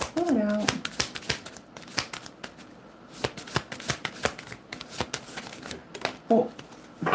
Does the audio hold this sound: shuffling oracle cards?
yes